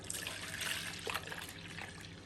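Extra water trickles and splashes as a baker wets their hands while mixing sourdough dough, a soft, close, continuous pouring and dripping sound.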